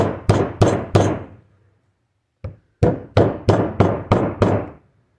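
An old seal is tapped down onto a Honda D15 engine during a bottom-end rebuild, with four sharp hammer knocks, a pause, a lighter tap, then six more evenly spaced knocks, close and loud.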